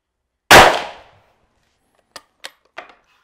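A hunting rifle fires a single loud, close shot on a running-boar shooting range, its blast ringing out and decaying over half a second, followed by three sharp metallic clicks of the action being worked.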